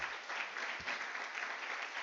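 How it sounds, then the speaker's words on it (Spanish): A church congregation applauds in praise during a Christian service, a dense, steady wash of clapping from many hands filling the room throughout. "Démosle un aplauso al Rey."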